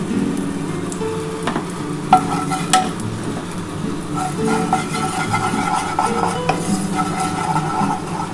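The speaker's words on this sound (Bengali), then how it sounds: "আমি অল্প একটু গোটা জিরে ফোড়ন দিয়ে দিলাম" Whole cumin seeds spit and crackle in hot white oil in a pan, a steady close sizzle broken by a few sharp pops and light metallic taps of a utensil against the pot.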